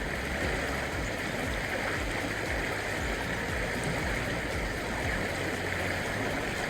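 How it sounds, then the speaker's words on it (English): The Weber River rushes past in a steady, broadband wash of flowing water that stays loud and even throughout, with no voices. "I just want you to listen to the river going by."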